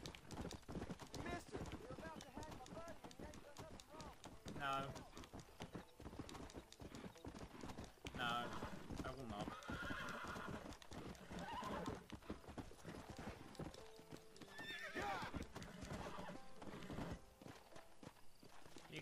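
In Red Dead Redemption, a horse's hooves pound in a rapid, continuous gallop with loud neighs and whinnies, while someone talks over the action.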